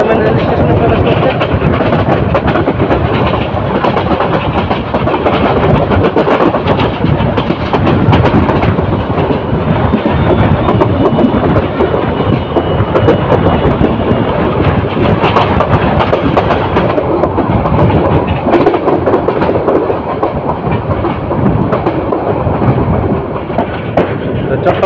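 Chottola Express, the Dhaka to Chittagong train, pulls into platform 1 at Airport railway station, a loud, steady rumble and rattle of railcars lasting throughout with constant broadband noise.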